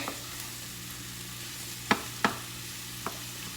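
A sizzling mixture is stirred in a pan during keto meal prep, with a few sharp utensil clicks against the pan over a soft steady fry.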